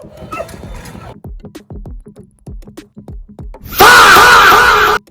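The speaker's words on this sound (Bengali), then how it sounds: "এখানে কতগুলো কুত্তা চিল্লাইতেছে" Several dogs bark at a busy fruit market in Raibazar, a run of sharp, repeated barks close by, cut off by a sudden loud burst of noise near the end.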